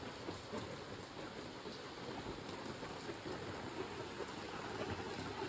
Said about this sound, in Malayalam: നല്ല മഴയാണ് പുറത്തുള്ളത്, അടിപൊളി മഴ.